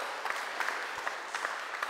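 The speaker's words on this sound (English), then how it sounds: "Let's give them all a round of applause." Steady applause from a church congregation at a Sunday service, continuous clapping at moderate volume with a few sharper individual claps standing out.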